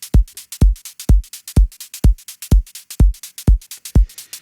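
From an MPC 1000, shuffled 16th MIDI notes fire as evenly spaced, punchy kick-like hits with short bright decays, about two per second, loud and dry with nothing else underneath.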